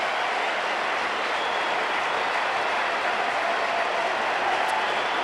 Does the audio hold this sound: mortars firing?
no